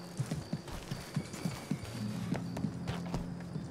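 Video-game horse hooves clip-clop in a steady close rhythm while riding, the pace quickening toward the end over a low continuous background hum.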